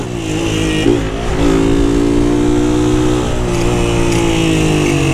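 A Honda Titan 160 motorcycle with a modified, unfiltered exhaust revs close by, its loud engine note climbing and then holding high and steady for several seconds.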